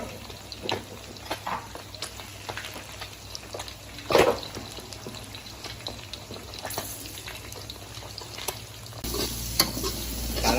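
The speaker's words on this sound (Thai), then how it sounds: "เจียวกระเทียม" Garlic fries in oil that sizzles and crackles steadily in a hot pan, with scraping and stirring clatter throughout and a brief louder clang partway through.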